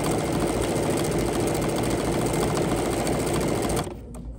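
A Bernina sewing machine stitches tulip shapes in a dense, continuous mechanical whir with rapid needle rhythm, loud and close, then stops abruptly near the end, leaving only faint room noise.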